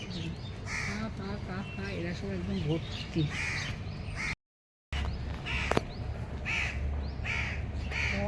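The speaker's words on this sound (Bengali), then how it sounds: "কাক পায়রা টায়রা সব একদম দেখুন ছাদের অবস্থা দেখুন" Crows caw repeatedly on a rooftop, loud and close, while someone talks over them throughout; the sound cuts out briefly partway through.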